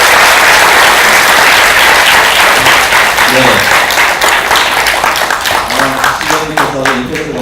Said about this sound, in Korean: 다시 한번 큰 박수 부탁드리고